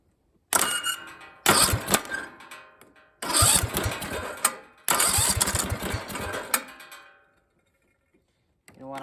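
Rebuilt Briggs small engine sputtering to life in several short runs: close, loud rough bursts of firing, each lasting a second or two, with brief silences between, then dying out before a final start.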